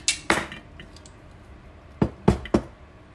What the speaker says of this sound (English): This is like a heavy duty hole punch, and this tin for this juice lid is nothing for that.